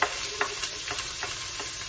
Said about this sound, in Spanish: Que se vaya friendo la cebolla con el ajo,